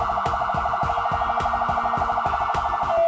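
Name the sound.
SCDF ambulance siren, pulsar tone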